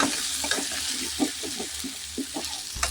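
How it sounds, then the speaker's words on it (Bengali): Potatoes and chopped green chilies frying in a pan for ghugni, stirred with a spoon: a constant close sizzle under a rhythm of soft scraping strokes. "এবার সব কিছু আমি ভালো করে নেড়ে নেব।"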